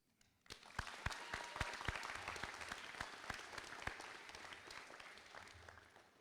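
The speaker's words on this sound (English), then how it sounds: "And I want you to give the loudest applause to your fellow students." Graduation ceremony crowd applauding fellow students, with a few sharp near claps that quickly swell into a broad, sustained wash of clapping that slowly thins toward the end.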